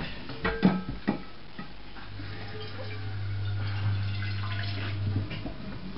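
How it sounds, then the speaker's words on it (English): Water pours and splashes into a pan amid a few sharp clatters and a low steady hum, moderately close and fairly quiet. "put just a little bit of water in here"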